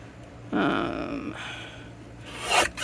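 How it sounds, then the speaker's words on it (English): Cardstock being trimmed down for a handmade card, a close scraping slide of a paper trimmer blade in two strokes with a brief pause between them, ending in a sharper rasp. "let me trim this down so we have a little white border"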